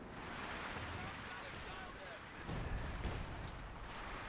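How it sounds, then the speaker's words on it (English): Near-continuous rumbling explosions and artillery fire in a strategy video game, a dense roar of blasts with a heavier cluster of impacts partway through. "This is just constant explosions and death raining in."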